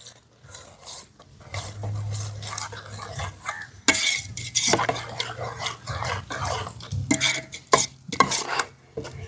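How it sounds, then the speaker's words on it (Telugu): Mutton and lentils stirred together in a pot for haleem, a ladle scraping and knocking against the vessel in uneven strokes close up, while a dog barks intermittently in the background. "మటను పప్పు బాగా కలిసేలాగా కలుపుతాను."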